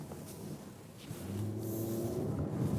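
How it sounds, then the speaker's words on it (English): A Jaguar F-TYPE sports car engine rises under acceleration, a low rumbling drone climbing steadily in pitch and loudness, heard at moderate distance with no talking. "And now you hear really that the engine is working."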